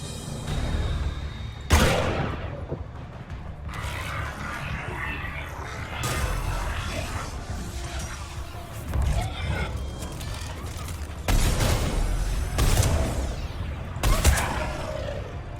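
Gunfire in the video game Mass Effect 3 on Insanity difficulty comes in repeated loud bursts and sharp cracks amid combat noise, with brief voices between the volleys.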